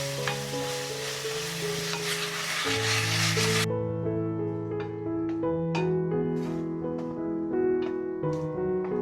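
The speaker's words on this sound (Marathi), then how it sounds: "हा मसाला, आणि ह्याला चांगला पैकी आपण या कांद्यासोबत फ्राय करून घेऊया" Ground masala paste fries with onions in a pan, making a close, hissing sizzle with stirring scrapes. The hiss is strong at first, then fades into softer sputters over a steady tonal background.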